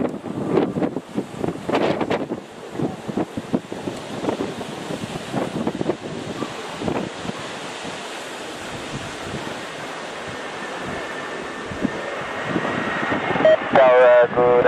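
Strong gusting wind roars across an airport, a continuous broadband rush with louder buffeting bursts in the first seconds and a faint tonal whine near the end.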